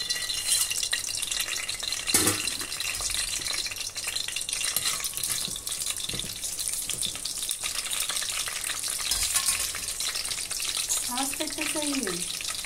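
Whole spices (cinnamon, cardamom, cloves and shahjeera) fry in a pan, a steady close sizzle running throughout, with a few clinks and stirring knocks along the way.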